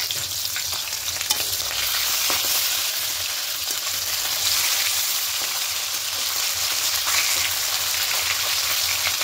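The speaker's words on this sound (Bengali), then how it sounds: "একটু ভেজে নেবো হালকা করে।" Catla fish pieces fry lightly in white oil with a steady, bright sizzle and crackle, interrupted by occasional stirring clicks, close and constant throughout.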